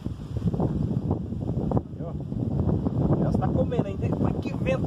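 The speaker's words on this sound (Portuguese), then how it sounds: "Tá ventando pra caramba." Strong gusty wind buffets the microphone at a fishing spot, a loud low roar rising and falling throughout while someone talks over it.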